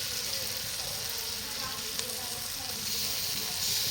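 Ground garlic paste and spices fry in a pan for mutton curry, making a continuous close sizzle with light stirring underneath and no talking.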